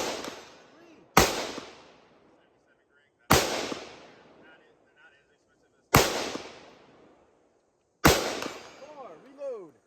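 Five loud, sharp gunshots at a rifle and pistol competition stage, spaced about two seconds apart with quiet gaps, each ringing briefly outdoors.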